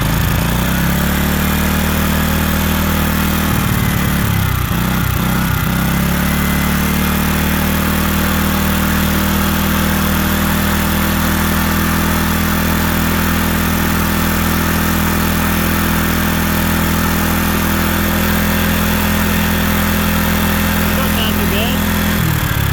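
An old Honda EX1000 portable generator runs at a steady, low throttle, its close, loud engine drone holding an even pitch with little change.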